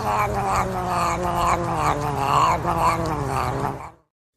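A cat lets out a long, loud, drawn-out caterwauling yowl indoors, rising and falling for several seconds before cutting off abruptly.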